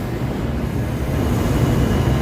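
Steady, loud rumble of an F subway train in New York rolling along the tracks, a continuous low roar without pauses.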